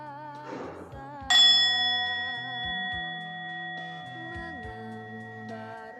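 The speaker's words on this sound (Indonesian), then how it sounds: "Mari kita bersama-sama mendengarkan lonceng kesadaran." A single Buddhist mindfulness bell strike rings out clearly, its pure tone sustaining and slowly fading over several seconds, with soft electronic tones underneath.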